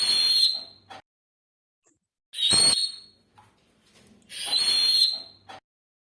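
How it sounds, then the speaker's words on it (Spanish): Three long, shrill whistles blown through the lips, each lasting about a second or two, separated by short pauses, close and loud. "ambos silbidos suenan diferentes"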